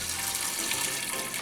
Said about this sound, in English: And we're gonna put water, for this amount of beans